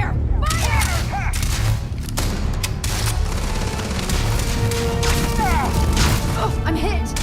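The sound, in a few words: gunfire in Starfield video game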